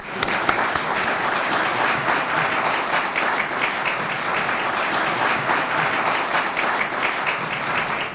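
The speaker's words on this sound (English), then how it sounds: "If we just give everyone present a applause of thank you." A gathered audience at a memorial tribute applauds in thanks, a dense, even roar of many hands clapping that holds steady and fairly loud throughout, with no voices over it.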